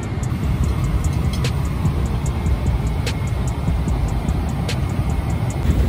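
Steady broadband airplane cabin drone before landing, a constant low roar with faint high whine, continuous and loud with no talking.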